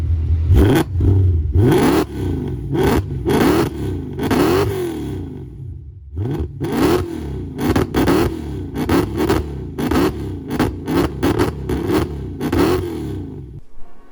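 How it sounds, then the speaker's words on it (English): A 2014 Mercedes C63 with a 6.2-litre V8 and aftermarket exhaust revs hard in repeated bursts, a deep throaty exhaust roar rising and falling close by, with no talking. "the IPA exhaust certainly should be, because, well, just listen to it"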